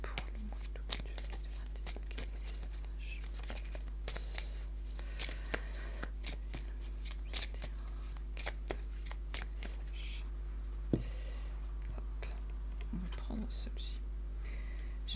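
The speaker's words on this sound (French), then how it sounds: "je mets les cartes" Oracle cards laid out on a table during a reading: soft, scattered taps, slides and card flicks, close and quiet over a steady low hum, with occasional faint breathy voice.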